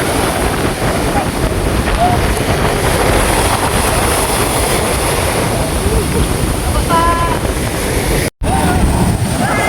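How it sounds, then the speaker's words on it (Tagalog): Steady roar of ocean waves and surf with strong wind buffeting the microphone, continuous and loud, briefly cutting out near the end. "Lalaki pa rin ang mga alon."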